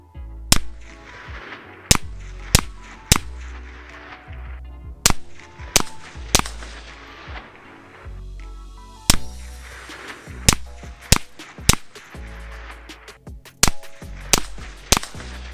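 Sharp, loud gunshots from a suppressed 16-inch 5.56 AR rifle, firing about fifteen spaced shots at an uneven pace, each a crisp crack with a short ringing tail, and no talking.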